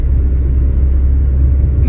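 An Austin Allegro on the move, its engine running with a steady, heavy low rumble of motor and road noise that stays constant and close throughout, with no voices.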